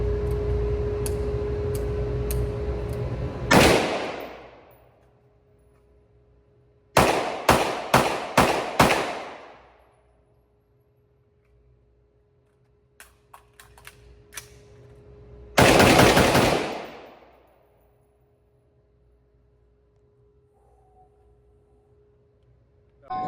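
Gunfire at an outdoor range from an M&P 2.0 pistol and an AR-15 rifle: one sharp report, a quick string of four or five shots, then another loud shot, with quiet gaps and a faint hum between.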